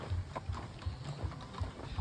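A horse-drawn wagon on a rural road in Romania passes with the horse's hooves clip-clopping in a steady, even rhythm, fairly quiet and a little distant, with no voices.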